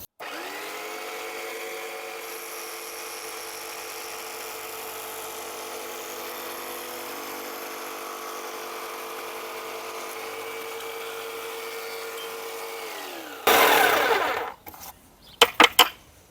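A WORX Bladerunner X2 tabletop saw runs in a steady, even whine for most of the stretch as it cuts with the miter gauge, then shuts off into a few loud, sharp clatters and knocks near the end.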